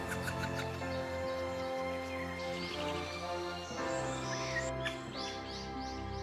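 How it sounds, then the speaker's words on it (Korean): A great spotted woodpecker parent calls while feeding its fledgling in a forest on Hallasan mountain, giving repeated chirping calls over a steady, dense background of other birdsong. "아빠 새가 먹이를 주며 다시 한번 격려합니다."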